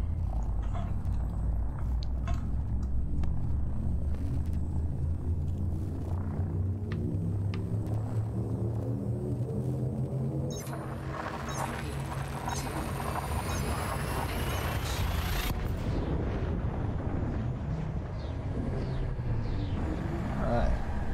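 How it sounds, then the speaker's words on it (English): The frame shift drive in the Elite Dangerous space game charges up, a loud sustained engine rumble with rising tonal sweeps building and swelling midway through before settling back into a steady drone. "Frameshift drive on."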